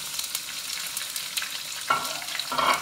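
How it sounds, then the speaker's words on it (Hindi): Chopped onions sizzling as they drop into hot oil while cooking chicken masala, a steady crackling fry with two louder bursts of spattering near the end, close and without talk. "मेरा ऑयल गर्म हो गया है इसके अंदर बबल्स बन रहे हैं अब मैं इसके अंदर प्याज ऐड करने लगी हूँ"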